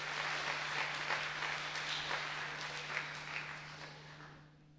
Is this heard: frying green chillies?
no